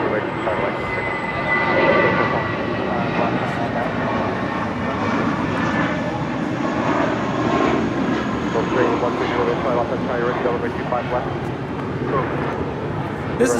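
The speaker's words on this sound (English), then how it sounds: "This is Spirit Airlines 472 departing to Memphis, Tennessee on an A320." A Spirit Airlines Airbus A320 departs Los Angeles International Airport, its jet engines a broad steady roar at middle distance, while people talk and radio chatter runs underneath.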